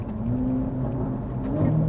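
A Ferrari 458 Italia engine hums steadily with a continuous drone during a downshift, a slight rise in revs near the end, close and fairly loud.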